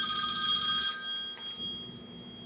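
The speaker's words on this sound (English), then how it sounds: "Fussy gets phone calls at 4:15 in the morning" A phone rings once briefly at 4:15 in the morning during a wet shave, a steady tone fading under low room noise.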